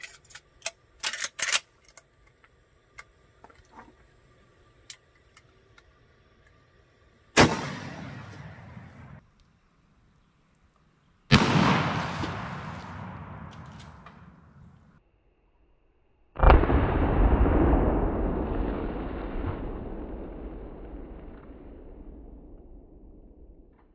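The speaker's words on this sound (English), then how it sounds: "Now here's the Hornady LeverRevolution." A Marlin 336 lever-action rifle fires Hornady LeverRevolution ammunition outdoors. Three loud, sharp shots each ring out with a long decaying echo, preceded by some mechanical clicks and handling noise.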